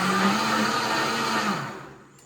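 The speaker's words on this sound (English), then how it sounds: "I've blended it for about maybe 3 minutes" A blender whirs steadily at high speed blending butternut squash soup, then the motor winds down and fades out near the end.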